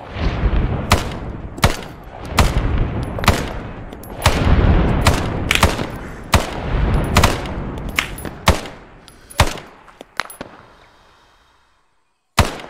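White phosphorus (Willy Pete) artillery rounds hitting in a rapid series of about a dozen sharp, loud cracking blasts, each with a short rumbling tail, spaced under a second apart before trailing off.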